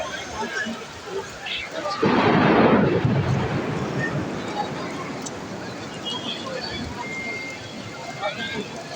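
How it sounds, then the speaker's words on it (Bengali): A deep, loud rumble of thunder over Makkah rolls in and slowly fades beneath steady heavy rain and wind noise. "দেখুন কীভাবে ম্যাগ গর্জন করছে আপনারা দেখতে পাচ্ছেন কত শব্দ হচ্ছে"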